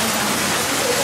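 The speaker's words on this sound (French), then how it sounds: "on s'est abrité parce que il pleut, mais genre beaucoup" Heavy rain falling in Kyoto, heard from a sheltered spot as a dense, steady broadband hiss that fills the whole moment without any break.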